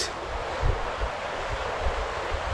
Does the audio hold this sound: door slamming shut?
no